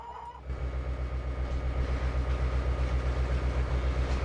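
In Trainz 2022, a train passes an intersection by a corrugated steel fence. A brief quiet opening gives way to a loud, steady rumble with a rhythmic clatter of wheels repeating evenly, close by.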